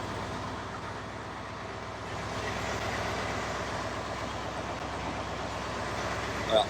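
Boat engine drones low and steady as the vessel cruises slowly along the southern Mekong in Laos, a faint continuous rumble with water and ambient wash, no clear voices.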